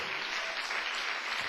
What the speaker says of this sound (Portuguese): Então pode dar outra salva de palmas para o Senhor.